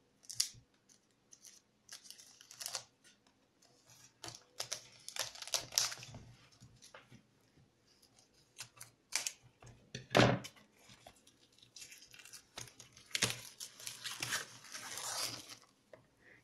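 Plastic film being cut and torn off individually wrapped books, with close crinkling, snipping and rustling bursts coming in irregular clusters amid quiet pauses, no talk.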